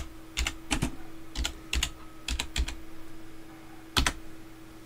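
Fingers type a command on a computer keyboard: crisp, close keystrokes in short clustered bursts separated by brief pauses, ending with a single firm key press, with no talk.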